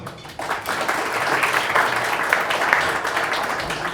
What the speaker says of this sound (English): let's give a warm applause to Sharunas and for the first lightning talk